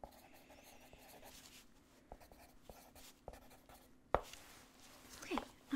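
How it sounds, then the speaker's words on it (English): Pen scratching over paper in a quiet room during a mock medical exam, with soft strokes that turn more distinct and scratchy toward the end, close to the ear. "I'm just gonna write that down"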